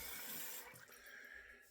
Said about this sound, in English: So I'm just going to run under water